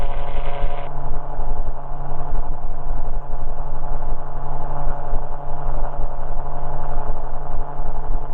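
A gyrocopter's engine and rotor drone steadily and loudly through a crosswind takeoff and climb, a constant dense roar with no talking.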